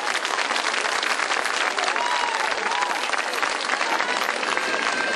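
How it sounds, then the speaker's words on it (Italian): Loud, dense applause from a summer-evening dance school recital audience, a sustained roar of many hands that stays strong and steady from start to finish. "Cominciamo subito con un bel applauso."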